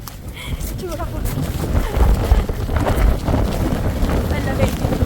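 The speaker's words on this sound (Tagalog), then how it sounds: "Grabe, lakas ng hangin." Strong gusting wind on the exposed clifftop at the Cliffs of Moher in Ireland, on a cold, rainy day, a constant loud roar and buffeting against the microphone that swells and rumbles throughout.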